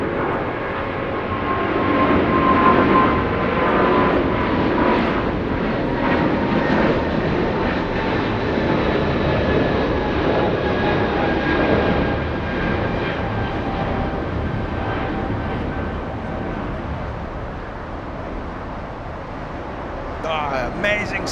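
A Boeing 777-200 with Pratt & Whitney 4000 engines roars steadily at Los Angeles International Airport, a loud sustained broadband rumble with whining tones that eases slightly toward the end, while a voice talks over it.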